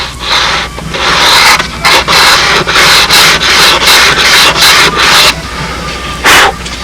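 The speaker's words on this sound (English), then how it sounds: "hold up piece of sandpaper, find out where any high spots are" Sandpaper is rubbed back and forth over a tacked-in section of an A-26 fuselage, giving about a dozen loud, close, rhythmic scratchy strokes with short pauses between them.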